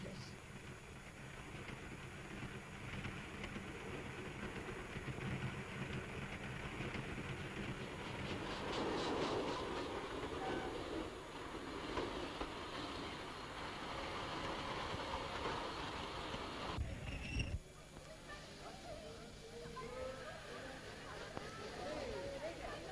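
A sleeping-car train rolls along steadily with a low, continuous rumble and faint rattling, while people talk quietly over it; a brief clunk comes near the end.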